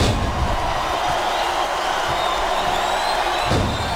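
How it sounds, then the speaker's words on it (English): A large arena crowd roars and cheers in a steady wash of noise during a WWE SmackDown vs Raw 2008 wrestling match, with a few thuds and swells under the constant din. "Now the fans start to cheer for him."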